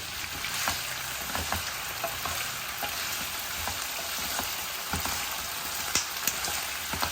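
Potato pieces frying with curry leaves in a pan for a garlic chilli potato fry, a dense continuous sizzle close by with light crackles and occasional stirring clicks, no voices.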